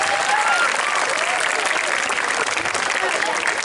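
A crowd of junior high pupils and guests applauds at a Maulid Nabi religious gathering, continuous loud clapping with voices calling out over it throughout.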